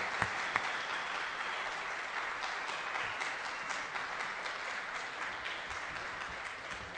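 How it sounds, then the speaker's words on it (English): Audience applause for a school symphonic band at a concert, a steady wash of many hands clapping at a fairly quiet, even level for the whole stretch, with no voices over it. "So let's give them another round of applause"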